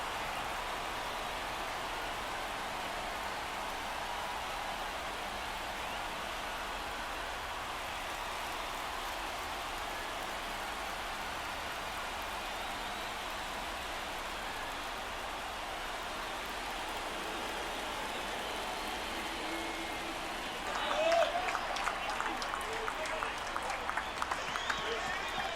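Stadium crowd in the MLB The Show 24 baseball game, a steady roar of cheering and applause that swells louder near the end, heard under commentary.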